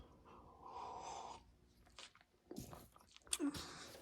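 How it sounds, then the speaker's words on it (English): Someone chews gum close up, with faint, wet smacking and a few sharp jaw clacks near the end. Soft breaths and snorts through the nose come between the chews in an otherwise quiet room. "don't need to see me chew some gum or to hear that jaw clacking"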